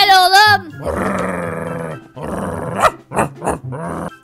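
A dog in the Minecraft video game, a pet named Karabaş, gives low growls and grunts in short bursts, mixed closely with a person talking loudly.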